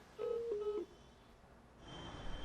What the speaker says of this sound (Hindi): पाखी फोन काट देती है